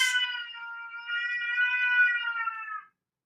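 A cat gives one long, drawn-out meow that rises and wavers like a caterwaul, loud and close, then cuts off into silence.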